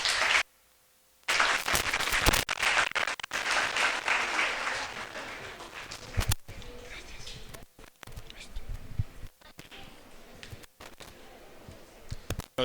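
Audience applause fills a lecture hall in welcome for a guest speaker at a talk, a dense roar of clapping that runs for several seconds after a brief silence, then gives way to someone speaking over lingering claps.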